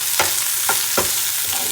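Capsicum being stir-fried in a pan for street-style cabbage manchurian: a constant sizzle with three or four distinct scraping stirs of the spatula, close and fairly loud.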